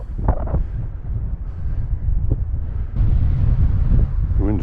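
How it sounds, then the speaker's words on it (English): Gusty wind buffets the microphone outdoors during a deer hunt, a steady low rumble that swells louder in the second half, with faint voices murmuring underneath. "The wind is to our face."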